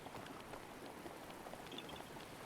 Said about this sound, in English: why is it raining here?